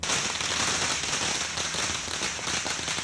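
Firecrackers and fireworks crackle continuously at a celebration outside a newly sworn-in minister's home in Punjab, India, a loud dense stream of rapid pops with no pause.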